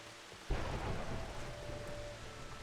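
A sudden low thunderclap breaks over steady rain pattering on surfaces, the rumble rolling on and slowly fading beneath the constant hiss of rainfall.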